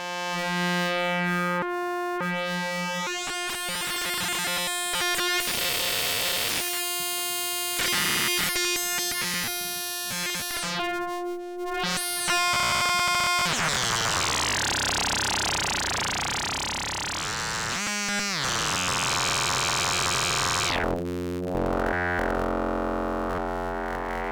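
Chaotic synthesizer tones from a Joranalogue Orbit 3 modular chaos module jump between harsh buzzing drones, stuttering pulses and noisy washes, with abrupt cuts and pitch sweeps, electronic and unruly.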